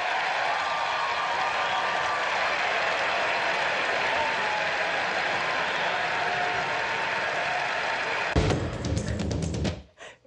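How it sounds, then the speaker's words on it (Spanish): Audience at an event applauding, Meryl Streep and J-Lo among them: steady, dense clapping holds for about eight seconds, swells briefly near the end, then cuts off abruptly. "Ahí están Meryl Streep y J-Lo, además Sí. aplaudiendo"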